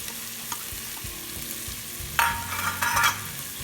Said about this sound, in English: Now saute this again for about 1 minute